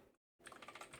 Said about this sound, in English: I'm just quickly typing